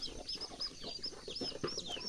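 Free-ranging village chickens cluck softly at a rural morning feeding, a continuous low chatter of hens with faint high chirps from chicks, with no voices.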